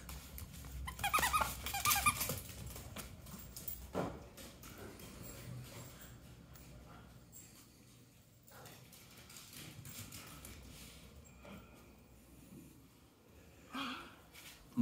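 A dog growls and scuffles while playing with a toy, with squeaks and low rumbles loudest in the first few seconds, then quieter rustling and a brief flare near the end.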